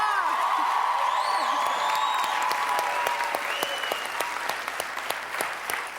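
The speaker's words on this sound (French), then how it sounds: "je pense que les derniers applaudissements étaient pour toi" Studio audience at a Loft Story television gala applauding with dense, steady clapping and some whoops, tapering off toward the end while a host's voice carries over it.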